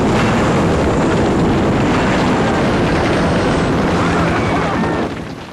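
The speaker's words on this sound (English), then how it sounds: "the chopper attack, when a stunt pilot drops in lower than anyone expects" A stunt helicopter flies very low over a film set during a chopper attack scene for an action movie, giving a loud, continuous broadband rotor and engine roar that fills the whole stretch and eases slightly at the very end.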